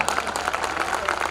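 An audience clapping at a Hindi kavi sammelan poetry recital marking a bank's silver jubilee, a short steady burst of crowd applause at moderate distance.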